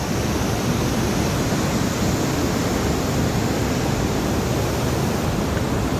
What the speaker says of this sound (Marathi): सगळीकडे खास धबधबा, पाणी भरपूर